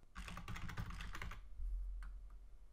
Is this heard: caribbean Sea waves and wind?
no